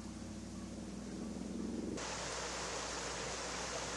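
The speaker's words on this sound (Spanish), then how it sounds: "El sonido del arroyo es lo único que se escucha en la colonia Lomas del Paraíso de Guadalajara" A stream flowing through the Lomas del Paraíso neighbourhood of Guadalajara, a steady broadband rush of water that grows fuller and louder halfway through, with no talk over it.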